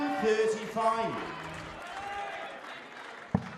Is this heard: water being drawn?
no